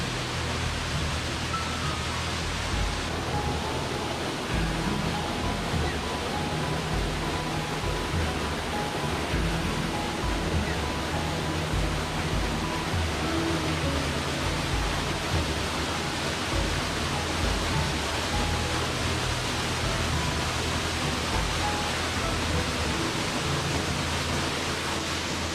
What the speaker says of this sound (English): Eaglecliff Falls is one of the few waterfalls in the state that flows between two vertical walls of rock